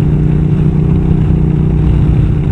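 A KTM SMT 990 motorcycle engine while riding, a steady loud low rumble with a continuous drone and no speech.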